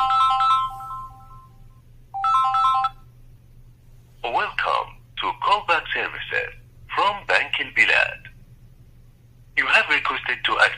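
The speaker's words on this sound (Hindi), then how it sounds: "आप देख सकते हैं मेरे मोबाइल पर फ़ोन आ गया" A mobile phone rings with an incoming automated bank call, two short bursts of a bright tonal ringtone over a steady low hum, followed by a voice speaking.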